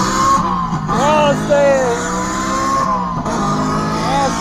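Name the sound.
Bluetooth speaker on electric scooter imitating motorcycle engine sound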